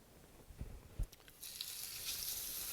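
Bacon hits olive oil in a preheated pan after a couple of soft knocks, breaking into a quiet, steady hissing sizzle that carries on to the end.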